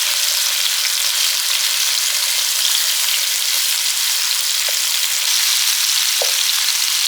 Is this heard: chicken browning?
yes